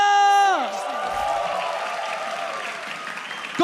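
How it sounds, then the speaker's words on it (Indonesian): An arena crowd at an MPL Indonesia esports match between EVOS Legends and Alter Ego breaks into applause and cheering that follows a falling tone and stays a steady, loud wash to the end. "MPL Arena, mana tepuk tangannya?"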